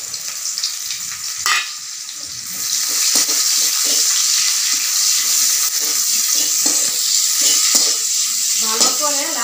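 Chopped onion and garlic hit hot oil in a pan for an okra, potato and tomato dalna. A quieter start swells into a loud, continuous close sizzle with brief stirring knocks and no speech.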